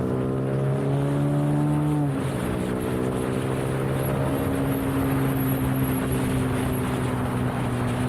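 A Zontes 155G motorcycle accelerates, its engine note climbing steadily in pitch, dropping sharply at a gear change, then pulling up again with a steady drone, heard close with some wind noise.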